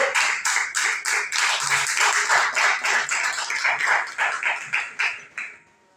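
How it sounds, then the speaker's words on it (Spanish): Church congregation gives a rhythmic round of clapping, loud and close, with steady beats that fade out toward the end. "Denle un fuerte aplauso"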